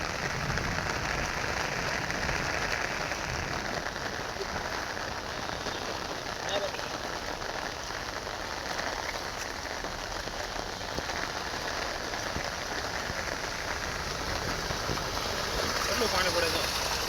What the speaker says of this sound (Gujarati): તો વરસાદ તો અત્યારે ફૂલ આવે છે બહારને